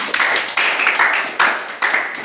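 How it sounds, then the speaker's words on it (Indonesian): Classroom students clap in several bursts of brisk, loud applause, each wave rising sharply then fading before the next starts. "Tepuk tangan buat kita semua"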